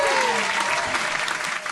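Audience at a live writers' performance night applauding, a loud, dense burst of clapping with crowd voices mixed in, lasting under two seconds.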